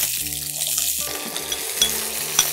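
Chopped onions drop into hot tempered oil for a liver and Malabar spinach dish, setting off a steady close sizzle with faint clinks of the pan, loud and continuous with no talk.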